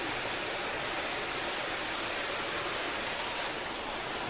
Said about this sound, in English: And we got the creek